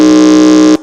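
A quiz contest answer buzzer pressed during a school semi-final gives one loud, harsh electronic buzz lasting under a second before stopping sharply.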